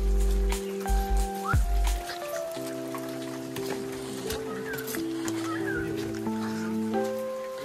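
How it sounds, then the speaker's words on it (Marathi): Light drizzle falling in a friend's village near Mahabaleshwar, a soft, steady patter under sustained tonal background sounds and occasional fowl-like calls. "पाऊस चालू आहे, तसा रिमझिम रिमझिम चालू आहे"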